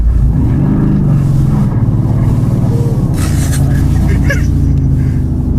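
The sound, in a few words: Mercedes-AMG GT R engine doing slow donuts on snow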